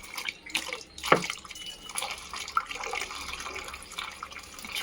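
Plain water is poured and splashes over DAP fertilizer to dissolve it as feed for rose plants, giving a soft, continuous liquid trickle with a few brief drips, close by and with no speech.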